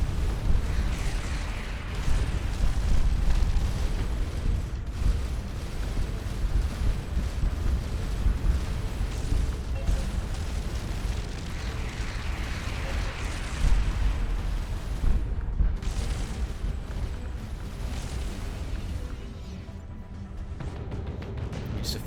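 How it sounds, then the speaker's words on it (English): Enemy frigates' missile explosions in the space game Starcom Nexus, a loud rumbling barrage of booms and bursts rolling on continuously with heavy low-end weight, swelling in a few places. "So the frigates do fire missiles."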